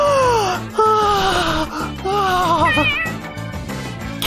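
A cat meows loudly and close by in a run of drawn-out, wavering cries, each one rising and falling, with a few short gaps between them.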